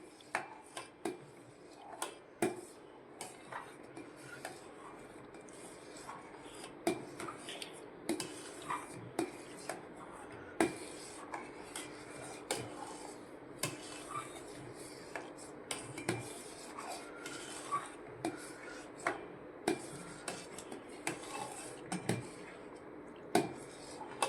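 A spoon scrapes and taps steadily around a pot of homemade ice cream mixture, producing a long run of soft, evenly spaced rubbing strokes with light metallic clinks. No speech.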